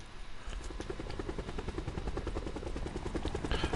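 Rotor chop of a helicopter in Black Ops 4 Blackout, a steady rapid thumping that stays close and loud for the whole stretch, with no voices over it.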